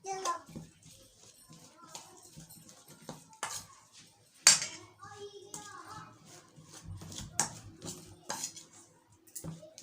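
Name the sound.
mixing fish marinade with chilli and garlic-ginger paste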